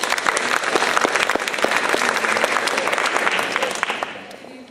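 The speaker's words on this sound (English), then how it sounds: "So please, a round of applause for Tricia." An audience claps steadily for several seconds at a theatre play event, dense crisp applause that tapers off at the end.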